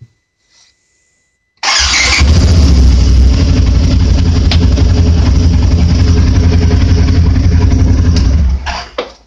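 A Polaris RZR 900 side-by-side engine cranks and fires after a spark plug change, then settles into a loud, steady close-up idle for several seconds before shutting off.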